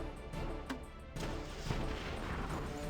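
Shotgun blasts in the Battle Nations strategy game: a couple of short, faint booming shots with a soft crash, set over a low ambient hum.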